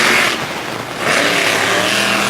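A monster truck engine roars loud and close during a freestyle run at a Little Valley, New York event, a sustained throaty rev that dips briefly and then surges back up.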